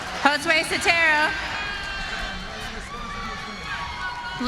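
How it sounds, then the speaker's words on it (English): Spectators cheering after an Art of Scrap featherweight championship MMA bout ends by rear naked choke submission, a sustained crowd roar beneath an announcer's loud voice. "Listen to the crowd."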